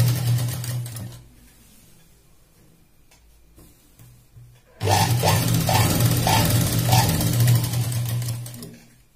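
Sewing machine stitching a cotton sofa cover, a quiet low hum at first, then after a pause a loud, rapid, steady mechanical clatter of needle strokes lasting several seconds.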